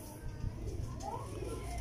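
Soft, low pigeon coos murmur faintly against background noise, with a brief rising call in the middle.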